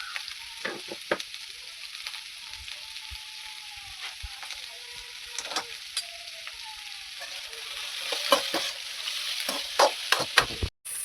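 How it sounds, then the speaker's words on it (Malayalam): Onions and green chilies frying with salt for a churuli curry, a steady close sizzle with repeated scraping stir strokes that grows louder toward the end. "അപ്പോൾ ഉള്ളിയും മുളകെല്ലാം നന്നായിട്ട് ഇങ്ങനെ മൂത്ത് വന്നിട്ടുണ്ട്"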